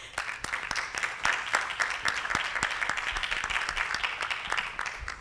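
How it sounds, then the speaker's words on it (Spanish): Applause from an audience at a university event on international higher education, dense and sustained clapping at a steady level throughout, with no voices on top. "Por favor, un aplauso."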